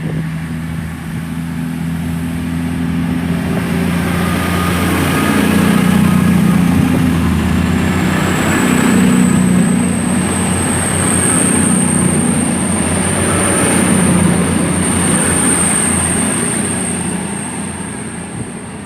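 A Class 221 Super Voyager diesel train departs Bristol Parkway station with a steady, loud engine drone and rolling rail noise, plus a high, thin wheel squeal that rises and holds through most of the passage.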